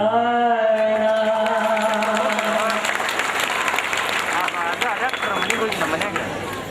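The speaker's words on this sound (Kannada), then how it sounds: "ಚಪ್ಪಾಳೆ ಹೊಡೆದವರಿಗೆ ಧನ್ಯವಾದಗಳು" At a village goddess fair in 2011, singing fades into a broad wash of audience applause that swells and holds, loud and steady for several seconds.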